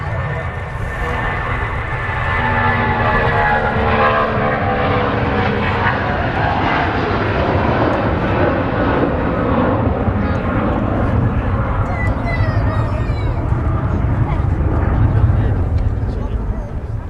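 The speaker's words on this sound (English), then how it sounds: "An amazing sound there from the Jet 275." Icelandair Boeing 757 jet airliner at Manchester Airport, its engines roaring loudly and steadily for a sustained stretch, with a broad rushing drone.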